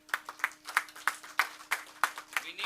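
Audience applause at an evening function on constitutional challenges, heard as a rhythmic, steady run of claps in unison, close and moderately loud, with no talking over it.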